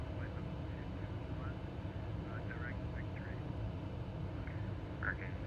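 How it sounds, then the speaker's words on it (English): A 787 Dreamliner flight simulator's speed brakes produce a steady, dense low rumble through a ButtKicker, with faint chirping tones and murmuring cutting in now and then. "And as I increase the speed brakes, you hear the rumble get louder and louder."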